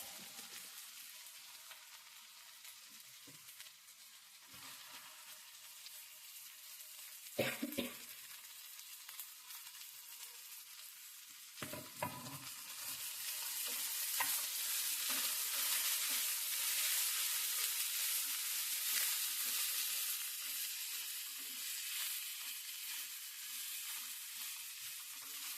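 Cabbage sizzling and frying in a hot pan with green chilli paste, stirred now and then with sharp scraping bursts, the steady hiss swelling louder midway as the vegetables hit the oil.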